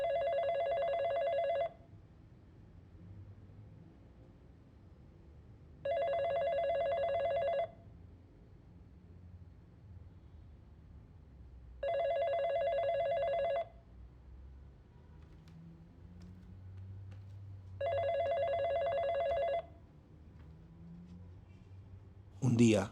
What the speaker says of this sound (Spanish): Un día sonó el teléfono.